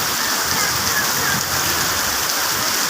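Steady heavy rain pours down in Iligan, a dense continuous hiss with no breaks, close and loud.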